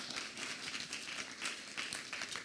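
Church congregation applauding during a French-language sermon, a steady, moderately distant wash of many hands clapping with no speech over it.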